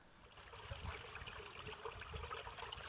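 A mountain river in Akshayuk Pass on Baffin Island, icy meltwater rushing steadily over rocks, a continuous broadband wash close by with no voices.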